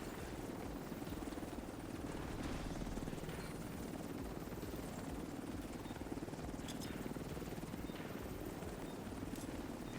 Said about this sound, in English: Chopper on site.